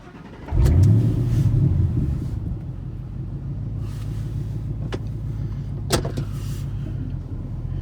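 A 2001 Ford Lightning pickup with a 4-pound supercharger pulley fires up and surges loudly at first, then settles into a steady, close engine rumble as it pulls away, with no talking.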